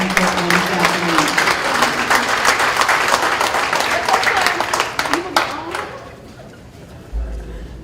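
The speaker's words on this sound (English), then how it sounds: "Let's give them a round of applause as they come forward this afternoon." An audience at a school board meeting applauds with dense, sustained clapping that tapers off after about six seconds. A voice can be heard faintly under it, then a brief thump at the end.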